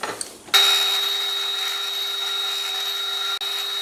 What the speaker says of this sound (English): So that's where I'll drill the holes.